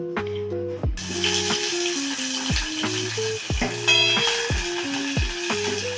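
Onion and chillies fry in hot oil, a sizzle bursting in after a quiet start and holding loud and close, with repeated spatula scrapes and knocks against the pan over a low droning hum.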